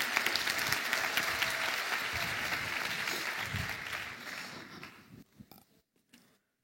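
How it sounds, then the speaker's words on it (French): Applause from an audience in a lecture hall at a neuroscience talk event, dense and steady for several seconds before thinning into a few scattered claps and fading out. "Par applaudissement dans la salle. Applaudissements."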